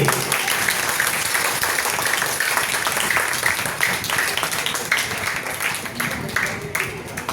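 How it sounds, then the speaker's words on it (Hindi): Audience clapping at a children's cultural programme at Gayatri Shaktipeeth in Lucknow, a dense, steady patter of many hands held at an even level throughout, with faint voices mixed in. "ताली बजाइए"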